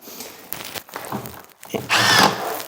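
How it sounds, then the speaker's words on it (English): A cordless 12-volt hammer drill drives Tapcon screws into a concrete floor during a cabinet install, with short bursts of close, whining motor noise and a longer, louder run at the end. "I can use my same 12-volt drill. It works great. It's a hammer drill as well."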